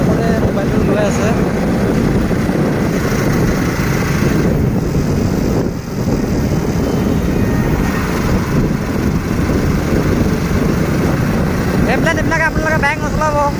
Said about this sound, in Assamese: এতিয়া আমি গৈ আছোঁ ঘৰলৈ, বাইক চলাই গৈ আছোঁ